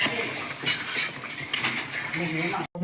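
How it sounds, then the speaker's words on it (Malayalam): Payasam being stirred in a hot pot, a metal spoon scraping and clinking against the sides in quick repeated strokes, close and fairly loud, with no talk. "നല്ല ചൂടായി സേം നന്നായിട്ട് ഇളക്കി കൊടുക്കട്ടെ"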